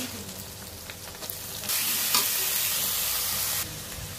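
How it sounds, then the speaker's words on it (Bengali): Cabbage with egg stir-fried in a pan gives a steady close sizzle with scraping stirs, and the frying swells louder partway through as the cabbage goes in, with no talk. "ভালো করে ভেজে এখন বাঁধাকপিটা দিয়ে দিব"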